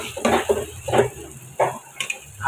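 Chopped onion and garlic frying in a pan with a steady sizzle, broken by several scraping stirs of a spatula against the pan; close and fairly loud, with no voices.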